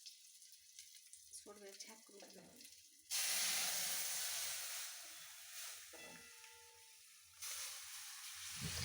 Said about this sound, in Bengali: আর এই ডালটা দেওয়ার সঙ্গে সঙ্গে চারিদিকে এত ছিটকাচ্ছে